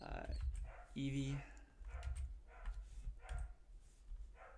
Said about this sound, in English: Sorry for the dogs in the background.